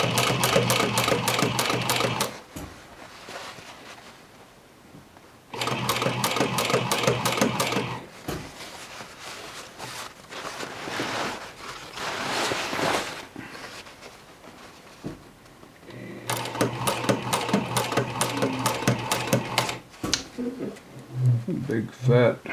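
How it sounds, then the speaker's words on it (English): Sewing machine stitching over a thick jeans seam, loud rapid bursts of stitching in three runs separated by quieter pauses, with a person talking between bursts. "We'll sew over it, keep it from undoing."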